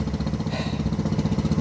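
A Homelite chainsaw engine sputters and chugs through a start attempt, with a rapid rough pulsing that runs steadily and close the whole time; no one speaks.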